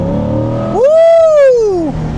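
Chevrolet C8 Corvette revving while driving through Cape May, New Jersey: a close, loud engine note that swells sharply upward, holds a strong rising wail for about a second, then falls back to a lower drone.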